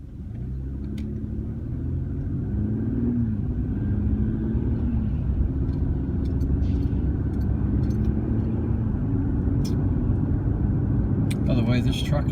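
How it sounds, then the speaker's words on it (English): A Chevy Colorado pickup with a V6 engine idles quietly, a steady low rumble that holds even throughout while someone talks over it. "or the truck idles nice and quietly"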